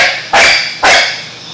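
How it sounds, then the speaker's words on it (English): Two loud, close dog barks about half a second apart, sharp and bright, with a quiet pause between them. "Dog barking."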